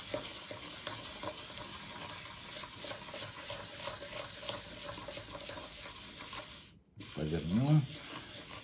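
A meat grinder knife is rubbed in circles on fresh sandpaper for sharpening, giving a steady, gritty scraping hiss that runs continuously up close and then briefly cuts out before resuming.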